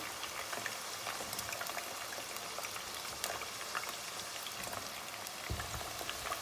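Potatoes drained of their water sizzle in plenty of well-heated cooking oil, a steady dense crackle with scattered pops that carries on throughout, with no talking.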